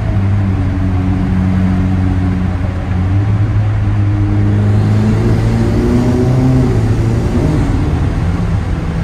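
Ferrari SF90 Stradale hybrid with 1000 horsepower pulling at full power, its engine note heard from inside the cabin climbing steadily in pitch through a long, loud, sustained acceleration, with no voices.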